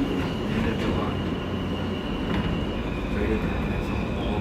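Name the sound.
New York subway R160B E train riding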